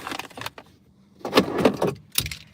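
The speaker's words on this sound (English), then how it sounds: "What do I do with my keys?" Keys jangle in bursts inside a hot parked car, with a cluster of bright metallic rattles early on, a louder stretch in the middle and a final brief shake, close and clear, with no talking.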